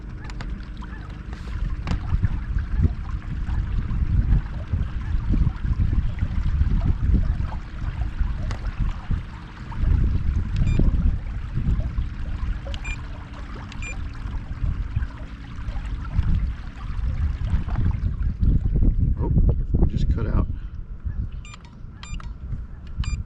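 Small electric motor driving an inflatable dinghy across open water, a low continuous hum mixed with splashing and lapping water and some wind, close by and steady, without talk.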